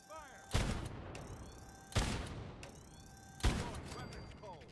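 Suppressing fire in the video game Fallout 4 comes as three heavy, evenly spaced blasts about a second and a half apart, each with a sharp crack and a long, rumbling decay over steady background noise.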